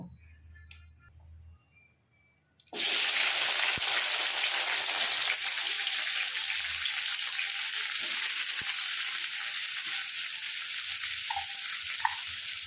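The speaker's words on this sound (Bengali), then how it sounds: "এবার এই কেটে রাখা সবজিগুলো সমস্ত আমি ভাজবো" Chopped vegetables hit hot oil in a pan for dalia khichdi over a high gas flame: after a quiet start, a sudden loud sizzle bursts in and holds as a steady, dense frying hiss, with a few faint knocks.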